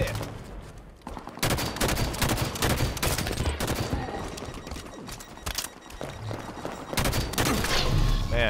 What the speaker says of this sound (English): Just one volley of shots from those guys just gets your shield down so far.